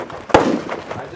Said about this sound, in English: I just shot that Howard.